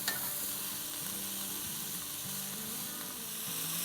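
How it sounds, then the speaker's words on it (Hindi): Cabbage fries over a high flame in a continuous, fairly quiet hissing sizzle, with faint stirring sounds beneath and no talking. "तो बस इसे हम हाई फ्लेम पे 2 मिनट सौटे करेंगे।"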